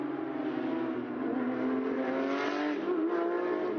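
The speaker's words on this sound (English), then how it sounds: "safety car driver going to be hustling that Porsche safety car as reasonably necessary" A Porsche safety car drives hard around the Sepang circuit, its engine giving a steady, rising, buzzing note close by as it accelerates, with no talk over it.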